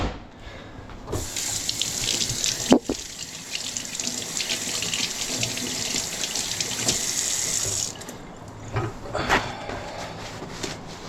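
A tap runs steadily into a sink while gunk is washed off, a broad continuous rush of water lasting several seconds with a brief clunk partway through, then stopping and leaving faint handling noises.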